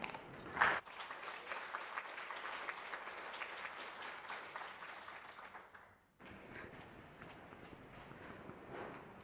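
An audience at an engineering talk event claps warmly to welcome a speaker, a dense, even applause lasting about six seconds that cuts off abruptly, followed by quieter shuffling footsteps.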